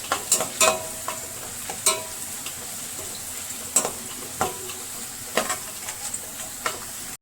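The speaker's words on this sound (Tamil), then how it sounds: "பூண்டு நல்லா வேகணும், அது வரைக்கும் நம்ம வதக்கிக்கலாம்." Garlic fries in oil in a pan for a Tamil pepper curry, a soft steady sizzle broken by repeated scrapes and clicks of a spoon stirring, close and fairly quiet.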